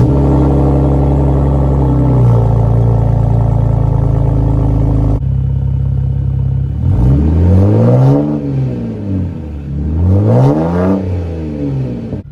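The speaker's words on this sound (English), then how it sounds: "I'm gonna give you guys a cold start, basically run you through my whole exhaust system" A BMW 328i E90 with a straight-pipe exhaust and muffler delete idles loudly after a cold start, then revs up and down twice in rising and falling sweeps, close and raw with no talk.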